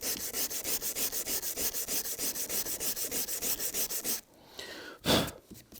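Sandpaper of 320 grit rubbing back and forth over a damaged Subaru Impreza headlight lens, a steady rhythmic scrape of about twenty close, loud strokes, then a pause and one last harder swipe.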